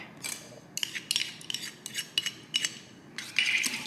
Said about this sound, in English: And we'll just mix that